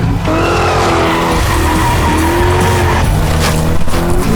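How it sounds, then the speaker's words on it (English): A Corvette C5 drifts with loud, sustained tire squeal over a steady engine roar, the screech wavering throughout at close range with no break. "Sorry, I gotta disrupt you a little bit with some more drifting."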